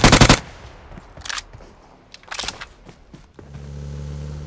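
Automatic gunfire rattles out in BGMI / PUBG Mobile as a top-ranked squad rushes, with loud rapid bursts in short clusters separated by quieter gaps, then a vehicle engine hum rises at the end.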